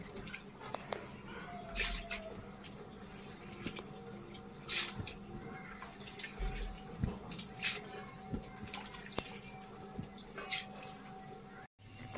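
Water goes into a cooking pot for washed masoor lentils in a home kitchen: quiet, scattered drips and small splashes over several seconds, fairly close, with faint background noise.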